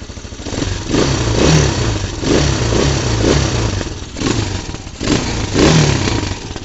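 A 250cc Elstar Tank quad engine, fitted with a quieter modified exhaust, revs up in several surging bursts over a steady idle, close and fairly loud, with no talking.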